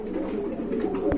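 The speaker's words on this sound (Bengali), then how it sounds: "কবুতরগুলো কিন্তু খুবই সুন্দর দেখার মতো" Pigeons kept in a cage at a market, giving low repeated cooing close by, a short soft burble ending with a brief rustle of movement.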